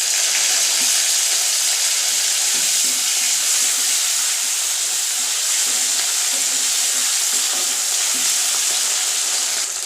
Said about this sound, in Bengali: আমি পেঁয়াজ কুচিটা দিয়ে দিলাম।